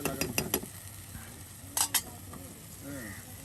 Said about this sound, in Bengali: দেখুন কত সুন্দর করে কিন্তু একটা মাংস কষানো হচ্ছে